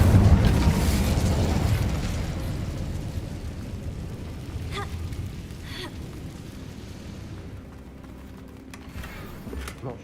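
A fiery Incendio spell in Hogwarts Legacy bursts with a loud whooshing roar that slowly fades into a crackling, rumbling tail, with no voices.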